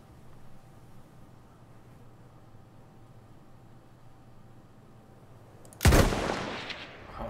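Near the end, a single loud gunshot from the Battlefield 1 video game cracks out of near silence, then a noisy tail decays over the last second and a half.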